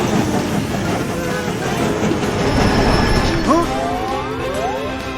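A train rumbles past with rattling wheels on the track and a few high metallic squeals rising over the steady clatter.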